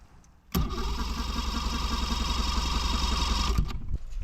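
Boat engine being started with the choke pushed in after sitting all year. One sharp crank catches at once into a steady, close, loud idle that holds for about three seconds, then cuts out.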